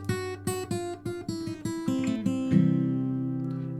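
An electric guitar plays a blues turnaround beginning on the five chord, G, with a string of plucked notes stepping through the changes before a final chord rings out and slowly decays, played alone.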